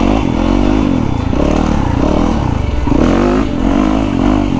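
A Yamaha YZ450FX dirt bike engine revs loud and close in repeated throttle blips, rising and falling over a steady rumble, with clatter from the bike and no talking.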